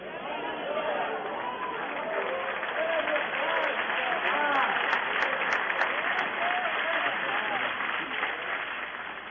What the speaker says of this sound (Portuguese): É a primeira vez que eu ouço alguém aplaudir com alguma coisa que o chocou.